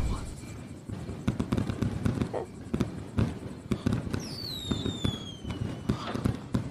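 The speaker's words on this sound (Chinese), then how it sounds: "你看烟花，好美啊！" Fireworks burst in repeated sharp cracks and pops, some with whistling trails rising and falling, amid a noisy outdoor scene while people talk.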